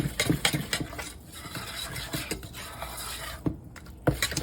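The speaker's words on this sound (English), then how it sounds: "And you wanna mix this in. Mix this all together." A spoon stirs gluten-free lace cookie batter in a bowl, giving soft repeated scraping and rubbing strokes with occasional louder knocks against the side, close and steady with no talk.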